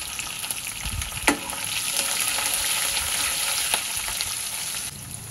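Cumin, asafoetida, curry leaves and fenugreek seeds sizzle in hot oil as the tempering for raw mango rice, a loud steady crackling hiss with a couple of sharp pops and no voices.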